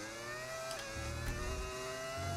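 A Formula 1 car engine in the F1 25 racing video game at the Brazilian Grand Prix whines at high pitch, revving and shifting up and down in steady synthetic tones.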